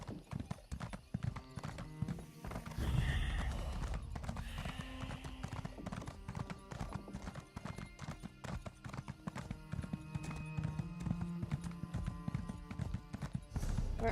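A horse mount in the Elder Scrolls Online game trots with steady, continuous clip-clop hoofbeats. The hoofbeats are close and even throughout, and a brief whinny rises near the start.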